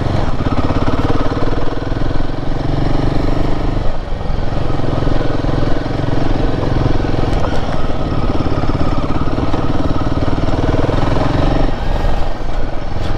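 A new Royal Enfield Himalayan 450 motorcycle engine drones loud and close during off-road riding, with the throttle held fairly steady and a brief dip in revs partway through.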